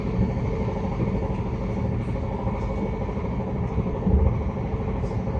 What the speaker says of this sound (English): And this train had a very, very noisy compressor.